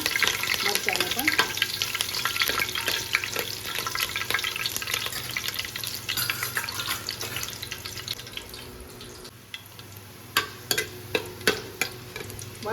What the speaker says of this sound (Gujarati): તો આપણે સૌથી પહેલાં નાખશું મરચાં અને લીમડો. અને થોડા ફ્રાય થવા દેવાના મરચાંને પણ.